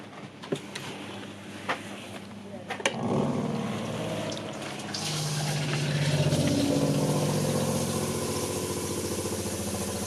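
Water surges through the freshly filled plumbing of a house on its first fill, a few sharp knocks and clicks giving way to a steady rushing flow with a pump-like hum that swells and stays loud.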